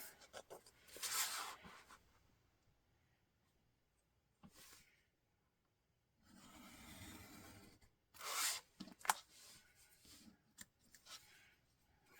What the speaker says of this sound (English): Use your X-Acto knife,